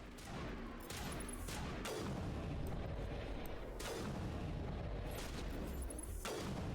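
Sniper rifle shots in the video game Mass Effect: several booming reports spaced a few seconds apart over constant loud background rumble.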